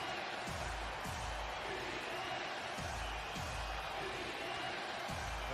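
Basketball arena crowd at a Houston Rockets versus San Antonio Spurs NBA game, a distant, sustained roar of fans with rhythmic low thumps like chanted defense, steady throughout and without clear talk.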